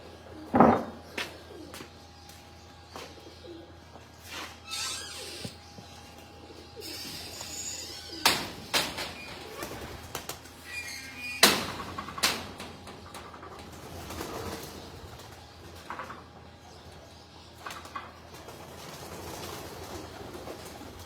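Pigeons from a breeder's loft coo softly in a sparse, quiet setting, with a few scattered louder bird calls and brief bursts of rustling over a low steady hum.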